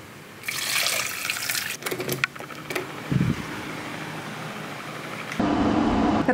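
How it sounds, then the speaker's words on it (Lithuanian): Boiling water is poured from a kettle into a pot of dumplings, giving a splashing, rushing pour in bursts with brief pauses and a steadier, fuller stream toward the end, close and fairly loud. "Aš turiu koldūnų, kuriuos sudedu į puodą, užpilu verdančių vandeniu"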